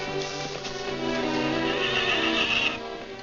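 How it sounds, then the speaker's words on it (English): A horse whinnies in a 1940s western beside a wagon, a long, quavering neigh that rises and falls over several seconds, fairly close, with faint hoof clatter underneath. "Hurry up with them horses"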